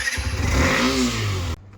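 Engine of a Hero Xtreme 125R motorcycle runs loud and close, rising briefly in pitch like a rev before cutting off abruptly near the end.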